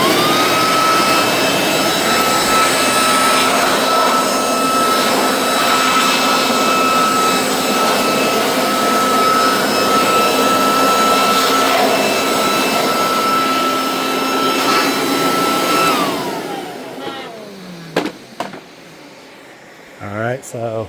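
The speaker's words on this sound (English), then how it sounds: "you kind of get the idea of what the blower does" Air blower drying a 2024 Kawasaki Ninja ZX14R after a wash, a loud steady whooshing roar with a high whine that runs unbroken, then winds down and cuts off near the end, followed by a few clunks.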